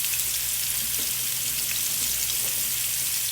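Salmon fillets frying in a pan give a steady, close sizzle with soft crackling pops throughout, no talk.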